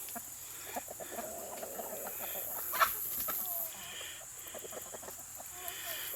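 Backyard chickens cluck softly and intermittently as they chase and peck at unpicked, bug-damaged garden tomatoes, with steady outdoor ambience and one brief sharper sound in the middle.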